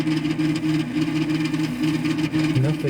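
A steady, loud droning hum from a 2011 Lenovo desktop computer powering up, with a constant whir from a noisy, failing fan, continuous throughout with a slight shift near the end.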